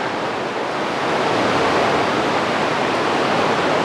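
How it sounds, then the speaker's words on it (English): Waterfall rushing in the Aareschlucht gorge in Switzerland, a loud, dense, continuous roar of falling water that swells slightly partway through, with no voices. "Looks like a waterfall up there."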